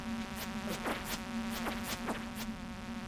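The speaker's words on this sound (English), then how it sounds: "Oh no, here come the bees." Bees in the video game Stardew Valley buzz over a steady low game tone, with several quick rising and falling swooshes as they dart close, one after another.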